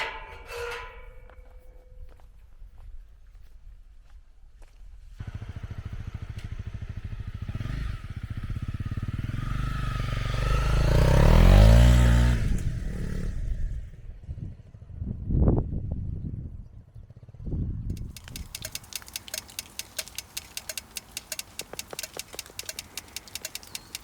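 A 2020 Honda CRF250L motorcycle rides along, its engine note rising to a loud surge midway before easing back, then a steady rapid clatter toward the end.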